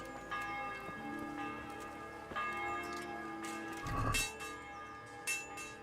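A church bell rung by the player in a video game set in old Bohemia, with a few sustained, ringing strikes spaced about two seconds apart under faint background ambience.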